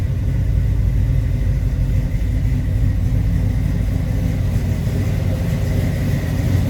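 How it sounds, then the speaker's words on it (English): A 1969 Chevrolet C10 pickup idles through its dual exhaust with a steady, deep rumble, low and continuous throughout, with no talking. "A little rumble out of that dual exhaust."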